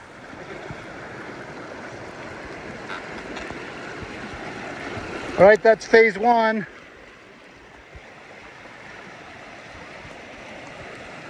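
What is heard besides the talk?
hiker crossing a mountain stream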